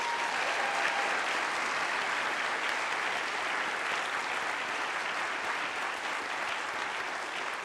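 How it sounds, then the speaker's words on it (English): A sustained round of applause from a large audience, steady and even for several seconds. "Let's give them a round of applause."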